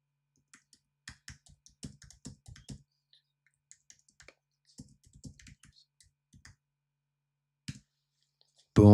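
Bursts of keystrokes on a computer keyboard, typed in uneven clusters of quick clicks separated by short pauses, close and fairly quiet, with a louder thump at the very end.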